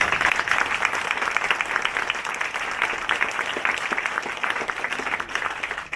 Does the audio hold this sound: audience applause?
yes